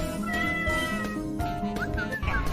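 A kitten meows in an animated short, several drawn-out meows rising and falling over background music, loud and close.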